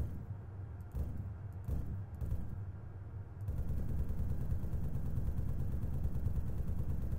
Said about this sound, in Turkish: E, güçlü mermi atıyor. Görüyorsunuz.